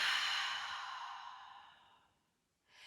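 A slow, deep breath drawn in and released during a guided yoga session, a soft airy exhale fading over two seconds before the next breath begins.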